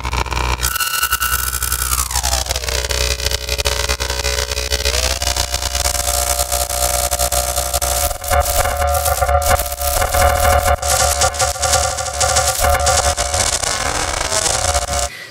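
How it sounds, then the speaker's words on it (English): A harsh FM synth sound modulated with a sine wave, made as a sound effect for the game Frozen Cortex, churns loud and dense, with gliding, shifting pitches that grow increasingly gnarly and chaotic. "it's modulated with a sine wave, so you can really get super gnarly if you want to"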